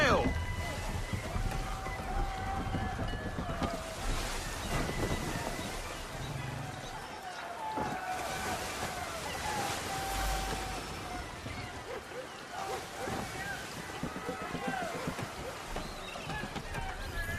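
Wind-driven ocean waves and a rushing, sloshing wash around a sailing ship in Assassin's Creed III, a steady dense roar through the whole stretch with occasional creaks and louder surges, voices shouting over it.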